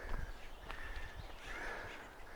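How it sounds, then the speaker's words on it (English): Acorn woodpeckers in a Jeffrey pine near oaks in Cuyamaca Rancho State Park, giving scattered harsh calls against outdoor background noise, several sharp notes in quick succession at moderate distance. "These birds are going crazy."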